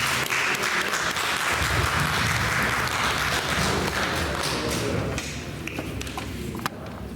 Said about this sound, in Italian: Un applauso a Gavino.